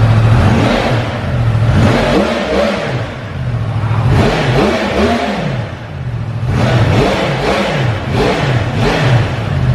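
A brand new 2021 Yamaha R1M sport motorcycle engine, warmed up and without a full exhaust, revs up and down several times in loud, rising and falling sweeps, close by, with a rough mechanical idle between revs.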